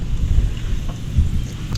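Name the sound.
strong wind on a boat at sea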